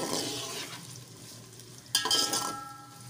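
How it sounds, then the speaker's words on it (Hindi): Chopped onions cooking in a cup of oil, frying steadily toward pink with a soft continuous sizzle and occasional spoon stirring, a brief louder scrape near the end. "हमने 1 प्याली तेल में प्याज डाल दी। अब हम इसको गुलाबी होने तक पकाएंगे प्याज को।"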